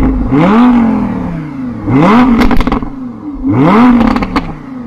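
Lamborghini supercar engine revving hard three times in a row, each loud rising roar falling back, with crackles and pops between blips, close by and with no talk.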